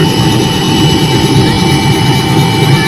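A helicopter landing beside a floating hospital ship on the Jamuna gives a loud, steady turbine roar and engine whine that stays constant throughout with no voices.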